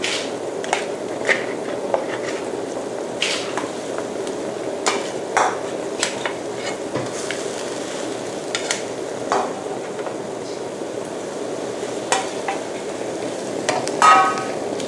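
Snakehead fish going into a pot of boiling soup with spinach and being stirred, producing scattered knocks and clinks of utensil on pot over a low bubbling, close with no talk.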